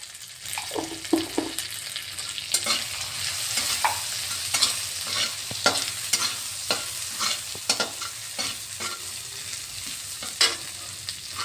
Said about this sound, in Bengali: দেখুন, একটু ভাজা ভাজা করে, অল্প জিনিস তো তাই কমই ভাজা ভাজা করলাম